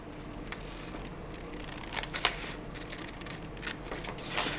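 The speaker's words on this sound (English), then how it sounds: "So I will cut the map out." Scissors cut a paper map out of a book page, giving quiet, scattered snips and crisp paper rustles, with a few sharper clicks rising above a soft room background.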